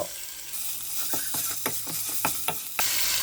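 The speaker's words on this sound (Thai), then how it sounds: "หอมเหลืองแล้วก็เอาพริกลงไปพัดเลยเจ้า ตามด้วยหมูเจ้า" Chili and pork stir-fried in hot oil, a steady loud sizzle broken by repeated scraping clacks of the spatula against the pan, close up with no voices.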